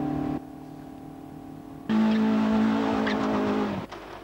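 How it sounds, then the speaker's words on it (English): Nitrous-injected drag racing cars launch at a night drag meet in Durban, South Africa: a loud engine roar with a steady droning tone bursts in after a quieter idle, then cuts off sharply near the end. "As red fades to green, the nitrous oxide injected cars take off, reaching speeds of about 300 kilometers per hour."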